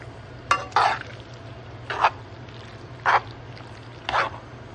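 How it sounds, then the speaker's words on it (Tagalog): Cheese being stirred into cooked adobo beef in a pan, heard as four separate soft scraping strokes spaced about a second apart over a steady low hum, close by and fairly quiet. "I-mix na natin."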